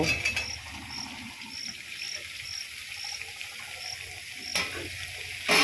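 Sundarbans greens are stir-fried in a pan, a soft sizzle with a few clinks of stirring, while insects chirp in a regular rhythm in the background.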